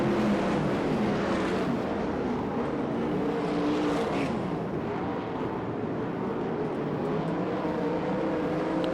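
USAC/CRA sprint cars race on the dirt track at Perris, California, their engines roaring continuously and loudly as the pack circulates, with a dense, unbroken wall of overlapping engine noise and no talking.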